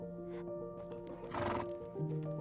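A wild horse gives one loud, close whinny that rises and then falls, with soft hoof clip-clops and rustling around it.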